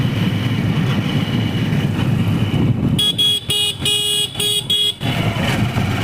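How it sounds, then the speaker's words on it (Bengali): Jammed road traffic near Bhabanichak rumbles with idling cars and motorcycles, then a series of loud, close horn toots blares in quick, broken bursts before the engine noise returns. "রাস্তায় বহুত জাম আছে"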